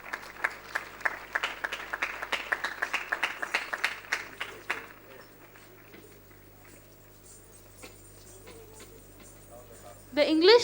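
Clapping from an audience at a school Founder's Day prize ceremony, cheering the Nilgiri House; a burst of distinct claps for about five seconds, then fading to quiet room sound.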